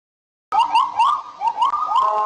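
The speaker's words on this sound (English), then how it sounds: "I call them chicken sirens." Sirens pass outside a building, a warbling, yelping wail rising and falling in repeated chirping swoops that start abruptly and continue loudly with no talk.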